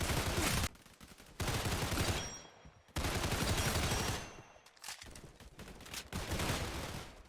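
Gunfire in a shooter video game comes as dense bursts of rapid automatic shots, broken by short pauses and a faint ringing tail, loud and up close.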